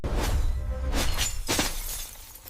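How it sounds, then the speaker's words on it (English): A pure carbon fiber turbofan blade shatters like glass, a loud burst of sharp cracks and breaking fragments in several quick bursts that fade away over a couple of seconds. "A pure carbon blade would shatter like glass"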